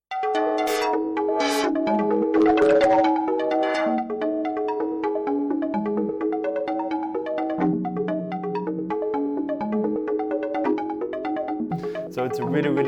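A bright, bell-like synthesizer pattern repeats stepped notes in a steady sequence, continuous and fairly loud throughout with no pauses.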